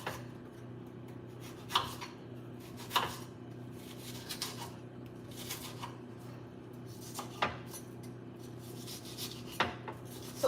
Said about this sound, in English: And we just cut it up on the board